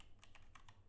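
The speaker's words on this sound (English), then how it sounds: "Oh, my typing is terrible." Soft keys clack on a computer keyboard, four or five quick taps in an uneven rhythm, close but very quiet.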